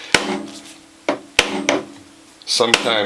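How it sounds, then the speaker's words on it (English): A hammer taps the top of the upper press plate on a Norwalk juicer to loosen its screws: about four sharp, hard knocks spaced unevenly, with someone talking between them. "take a hammer and tap the top as you turn to loosen the screws"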